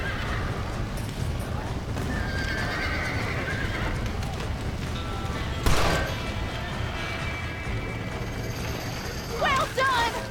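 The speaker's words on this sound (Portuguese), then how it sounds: "Now let's save the horses!" Horses neighing and hooves clopping in the Red Dead Redemption video game, with whinnies over a busy rumbling background, a sharp sound near the middle and more neighs near the end, while people talk throughout.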